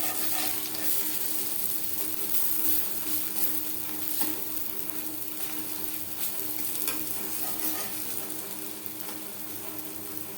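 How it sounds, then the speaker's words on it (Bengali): Lentil fritters fry in oil, giving a soft, even bubbling sizzle with faint crackles that holds steady throughout at a modest level, with no one speaking. "ডালের বড়া একটা সাইড ভাজা হয়ে গেলে অপর সাইডটা উল্টে দেব।"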